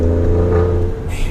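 A 2018 Alfa Romeo Stelvio Quadrifoglio SUV on twisty turns, its engine a loud, close drone that holds steady and then shifts pitch near the end.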